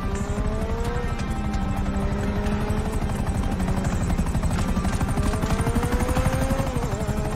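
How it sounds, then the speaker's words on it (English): A helicopter in Grand Theft Auto V: its rotor chops rapidly and steadily throughout, loud and close, with a buzzing engine whine layered on top and no talking. "Another chopper."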